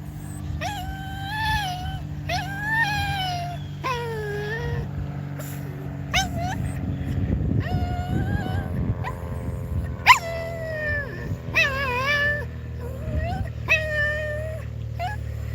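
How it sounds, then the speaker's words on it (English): A small dog whines in repeated high, wavering cries, fairly close and loud, outdoors in a park at sunset, with a steady low background hum throughout. "Listen to what you're doing to my dog, choosing Melissa over me"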